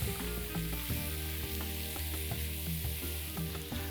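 Mushrooms frying in a pan or wok, a steady close sizzle with intermittent stirring clatter and scraping taps throughout.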